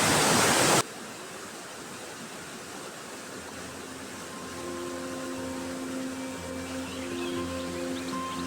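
Water flows steadily in a stream beside a quiet riverside path, a continuous even rushing hiss that follows a brief louder burst at the start, with faint steady tones underneath and no voices.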